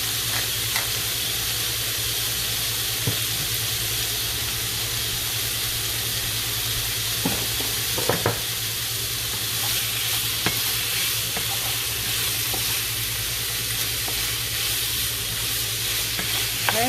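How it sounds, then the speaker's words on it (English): Chicken pieces seasoned with salt and pepper fry in a hot pan, giving a steady, close sizzle and crackle that runs unbroken, with occasional sharper pops and utensil taps. "just fry that until that's cooked and nicely browned"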